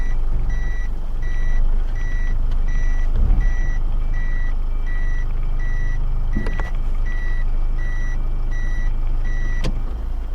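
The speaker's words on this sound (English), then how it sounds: "So we'll just reverse back, guys, and we'll grab this dumpster." A junk removal truck backs up toward a dumpster, its reversing alarm beeping in a steady, evenly spaced pattern over the loud idling engine, with a few sharp knocks partway through.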